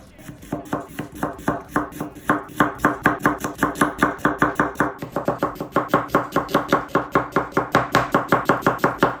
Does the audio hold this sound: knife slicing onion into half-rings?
yes